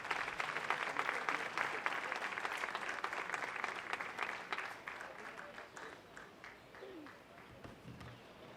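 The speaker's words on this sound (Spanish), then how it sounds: "Un fuerte aplauso que viene de Heidelberg para compartir este espacio literario" An audience applauds after the opening speech of the Granada Book Fair, a thick round of clapping that is strong at first and then thins and fades, with a voice briefly heard near the end.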